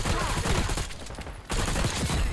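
AMES 85 rifle fire in the video game Black Ops 6, loud rapid bursts of automatic shots that pause briefly in the middle and then resume.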